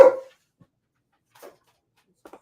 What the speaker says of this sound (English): What the hell you barking at Jada like you stupid?